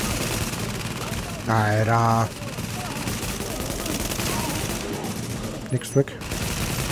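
Rapid gunfire in The Division rattles in bursts against a tank, loud and sustained under a man's brief speech, with a short electronic tone and sharp clicks near the end.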